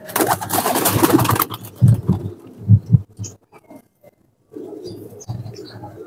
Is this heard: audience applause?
no